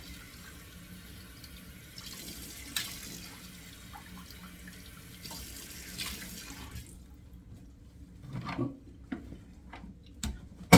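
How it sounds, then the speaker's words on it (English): Running tap water fills the first seven seconds, then gives way to a few brief splashes of cold water onto a face and clatters at a sink, close by. "2 splashes of cold water"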